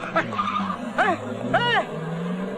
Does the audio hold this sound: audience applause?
no